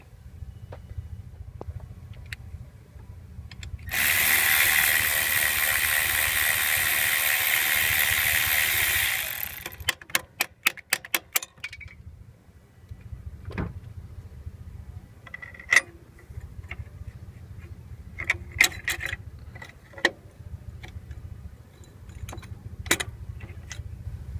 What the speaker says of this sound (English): we're going to go ahead and unbolt the clamp here and the power and the ground for the air intake heater